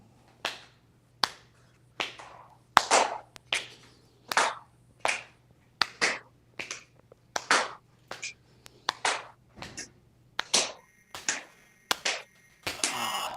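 Hands clap behind the back in a tai chi exercise, a steady series of about twenty crisp, close single claps at a relaxed, even pace, with no talking over them.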